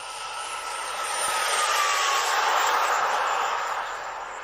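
An aircraft engine roars past, swelling from a distant drone to a loud, close rush with a rising whine, then fading slightly as it moves away.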